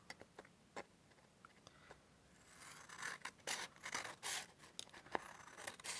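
Scissors cutting round the edge of paper for a nature-themed junk journal tag spinner: a few sparse snips at first, then a denser run of close, crisp cuts and scraping blade strokes, no talking.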